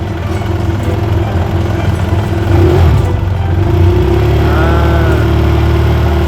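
A motorcycle with a charging fault idles with a low, steady engine drone, then swells slightly as it revs up partway through, loud and close with no talk.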